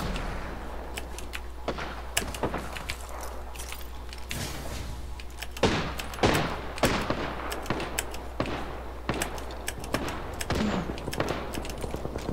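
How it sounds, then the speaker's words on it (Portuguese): Gunfire in the video game Apex Legends: sharp repeated shots and short automatic bursts scattered throughout, loud and close, with a steady low hum underneath. "Deu um tiro muito bom no cara"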